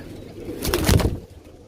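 A short burst of bird sound with soft low murmuring and a flutter of wings, close by, lasting about a second.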